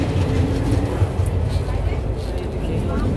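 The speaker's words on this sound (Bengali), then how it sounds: "আমাদের ট্রেনটা আর একটু পরেই নিউ ফরাক্কা জংশন স্টেশনে ঢুকবে।" A passenger train on the way to New Farakka Junction rumbles steadily with a low, continuous rolling noise from inside the coach as it nears the station, with voices talking over it.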